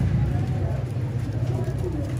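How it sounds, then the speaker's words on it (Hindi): Low, soft cooing from a flock of about 24 flying pigeons repeats in a steady throaty rhythm, close by, over a faint background murmur. "टोटल ये 24 कबूतर हैं"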